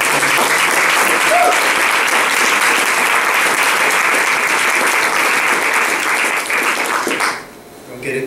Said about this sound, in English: Let's have a big round of applause for John Akpata.